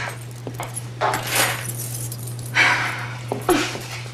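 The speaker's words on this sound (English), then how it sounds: "Keys." Keys jangle in two short metallic bursts of rattling, close by and fairly loud, over a low electrical hum and quiet room sounds.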